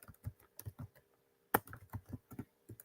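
Someone types on a computer keyboard, entering a command: irregular bursts of light key clicks with short pauses, close and fairly quiet, no talking.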